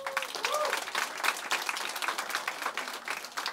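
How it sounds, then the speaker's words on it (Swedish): Steady applause from a crowd at the Webbstjärnan 2018 awards, dense and even throughout, with a faint voice briefly audible at the start. "1400 röster. Applåder!"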